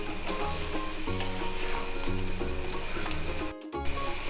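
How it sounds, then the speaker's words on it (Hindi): Mutton pieces with salt and garlic sizzling as they are sautéed in a karahi for Shinwari mutton karahi, a loud, steady frying crackle with stirring knocks and a brief drop near the end. "अब हम 2 से 3 मिनट इसकी भुनाई करेंगे ताकि नमक का फ्लेवर"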